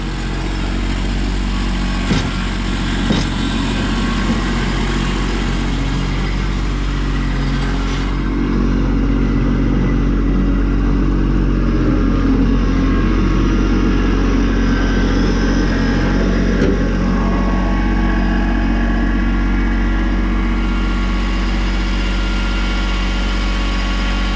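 A tractor engine runs steadily as it is loaded onto a trailer at an abandoned machine shop, a close, low, continuous idle with occasional clattering knocks and slight shifts in engine load.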